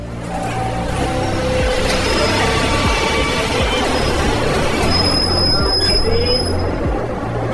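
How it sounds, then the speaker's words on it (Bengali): A train pulls into a station with loud, continuous rumble and rolling wheels, high metallic squeals rising near the end, staged as an effect in a Bengali audio drama. "ট্রেন এলো 10 মিনিট লেটে।"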